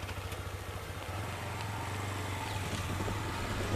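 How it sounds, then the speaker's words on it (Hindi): A TVS Apache RTR 160 motorcycle with a BS6 engine runs after starting, a smooth, steady low engine hum that builds slightly in loudness, with no talk over it. "तो बाइक यहाँ पे स्टार्ट हो गया है।"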